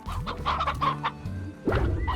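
Chickens cluck in a video game, several short clucks and squawks in quick succession, fairly close, with no talking.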